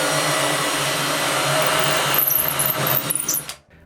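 A power drill bores oversized holes into the top of a wooden nightstand casing, giving a continuous loud whine that sputters and winds down to silence at the end.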